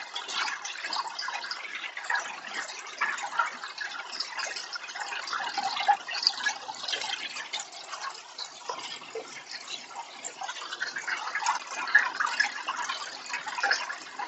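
Water runs steadily through a sluice box as a shop test processing a bag of gold pay dirt, a continuous close rushing and splashing flow with no speech.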